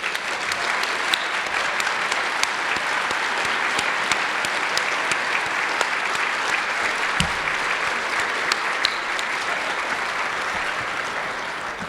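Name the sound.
audience applause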